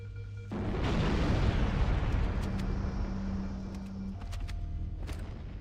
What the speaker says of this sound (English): Trigger a wildcat explosion of the engines.